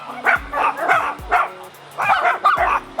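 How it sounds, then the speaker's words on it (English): Several dogs bark and yip in short bursts, fairly close and loud, with brief pauses between the volleys and no talking over them. "The big dog is the only one not barking at me."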